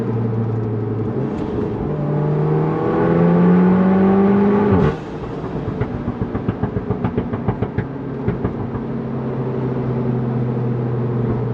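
A Mk7 Volkswagen Golf R in race mode revs up and holds a high droning pitch, drops off abruptly, then idles with a rapid crackling burble from the aftermarket exhaust.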